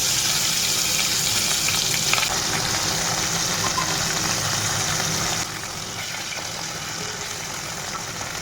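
Fish frying in a pan in a home kitchen, a steady bright sizzle of hot oil running continuously, dipping slightly softer partway through.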